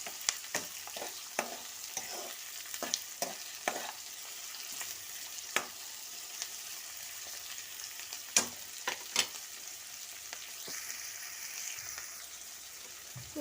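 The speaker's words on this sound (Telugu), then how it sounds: "ఆనియన్స్ కొంచెం ఎర్రగా వేగాలి." Onions frying in a pan for a coconut rice and aloo kurma dish: a steady soft sizzle with frequent sharp pops and scraping stirs, close but quiet, with no talk.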